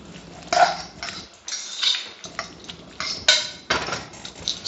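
Onions and bean sauce cooking in a pan, heard as a series of clanking, scraping utensil strikes against the cookware, irregularly spaced and close, with a low sizzle beneath and no talking.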